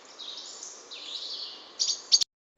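Chirping calls of rose-ringed parakeets and house sparrows, a steady high twittering stream with a couple of louder sharp calls near the end before it cuts off.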